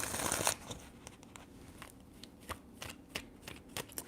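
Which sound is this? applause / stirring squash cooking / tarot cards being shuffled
tarot cards being shuffled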